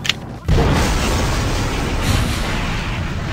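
A small explosion in a train video game bursts out as a sudden loud boom after a brief quiet moment, followed by a sustained rumbling roar that lingers.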